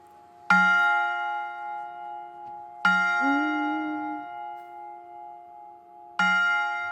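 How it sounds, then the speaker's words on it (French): A large bell at the Paccard bell foundry in Sévrier tolls three times at slow, even intervals, each strike ringing out clearly and decaying into a long resonant hum. "on va vous quitter sur ces sons, en tout cas de cloches"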